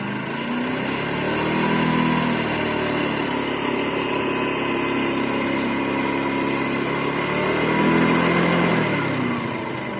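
Scooter engine with throttle applied, a buzzing small-engine drone that swells in pitch twice as revs rise and fall, steady and close with no talking.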